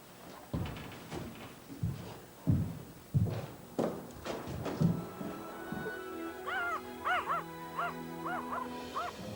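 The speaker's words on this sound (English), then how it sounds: "Crazy dog." Several sharp barks from a dog, spaced irregularly, followed by higher yelping whines and squeals toward the end; moderately close, no talking.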